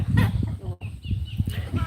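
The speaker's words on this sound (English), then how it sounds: "There's my chickens." Farm chickens, hens with a rooster nearby, clucking in short close bursts with brief gaps, loud and busy against a rough outdoor background.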